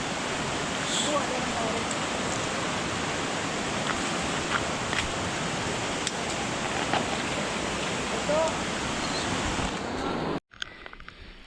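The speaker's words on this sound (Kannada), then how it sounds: "ಒಂದಿಷ್ಟು ಚಿಕ್ಕದು ಜರಿ ಸಿಗುತ್ತೆ, ಅಂದರೆ ಹಳ್ಳದ ಥರ ನೋಡ್ಬೋದು. ಎಷ್ಟು ವಾಟ್ರ್ ಬರ್ತಿದೆ" A small stream flows on the forest trail to Kurinjal peak, a close, steady rushing wash that holds for about ten seconds before cutting off abruptly.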